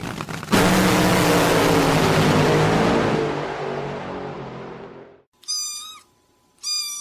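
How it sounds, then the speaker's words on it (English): A loud burst of broadband noise fills most of the clip, then two short, high, tonal meows from a tiny kitten sound clearly in the quiet that follows. "Oh, the sound of a tiny kitten."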